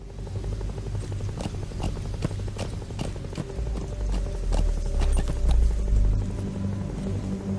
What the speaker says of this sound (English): you can see our helicopter flying off in the distance